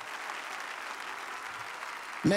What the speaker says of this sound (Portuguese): Vamos dar uma belíssima salva de palmas para Jesus Cristo.